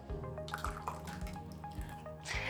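Tomato passata, about 460 grams, poured into a Thermomix TM7 bowl, making soft wet drips and splashes close by, quiet and brief.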